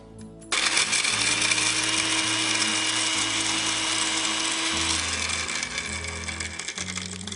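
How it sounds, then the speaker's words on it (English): A blender crushing ice whirs loudly and steadily for several seconds, a harsh grinding roar over a soft background tune. "Blender lid on, button ready."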